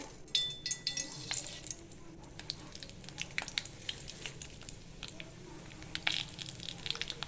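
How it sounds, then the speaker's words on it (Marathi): Mustard seeds crackling in hot oil in a pan for poha chivda, with scattered sharp pops and spits over a faint sizzle, close but soft, and no talking. "मोहरी तडतडली की आपण जिरं टाकूयात"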